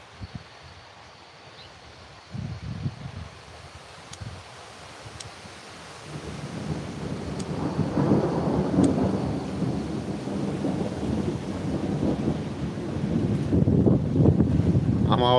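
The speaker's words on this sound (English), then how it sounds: "We're fixing to have a really big storm." Thunderstorm rolling in over Elmore County, Alabama, with deep rumbling thunder that swells from scattered low bursts into a sustained roar, steady rain and wind buffeting the microphone throughout.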